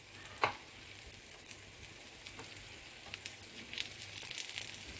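Eggplant slices frying in hot oil on a flat pan give a soft, steady sizzle and faint crackle, with an occasional clink and light scrape, all fairly quiet and without voices.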